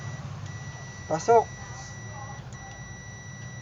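A multimeter's continuity buzzer, on an M22A test probe, sounds a steady, high electronic tone through most of the clip, briefly cutting out, while a voice says a short word.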